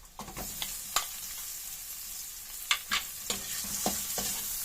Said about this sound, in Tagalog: Igigisa na po natin ito pong bawang. Kapag naamoy na po natin yung aroma ng bawang, isusunod na po natin ito pong sibuyas.